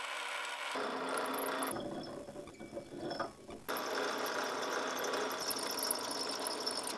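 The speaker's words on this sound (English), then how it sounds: "and then I drilled a hole through the part." Drill boring a hole through a cast metal lathe faceplate, a steady grinding mechanical whir with a quieter dip midway before cutting resumes, close and continuous with no talking.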